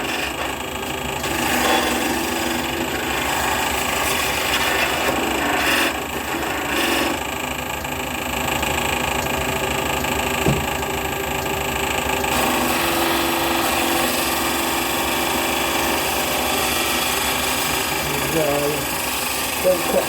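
Wood turning on a lathe, a tool cutting a spinning workpiece with a steady mechanical whir and rough scraping hum that runs continuously at close range, with voices talking over it.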